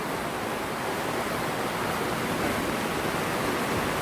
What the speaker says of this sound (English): Yeah, pouring down with rain.